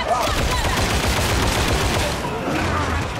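Sustained, rapid gunfire in a Warhammer shooter video game, a dense stream of overlapping shots that stays loud and continuous throughout with barely a pause.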